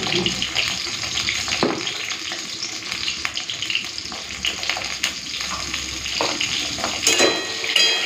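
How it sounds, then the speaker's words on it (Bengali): Eggplant (brinjal) slices frying in hot oil in a wok, a steady broadband sizzle and crackle running throughout at close range, with occasional louder spits and stirring scrapes and no talking. "প্রথমে বেগুনগুলোকে ভেজে নিই।"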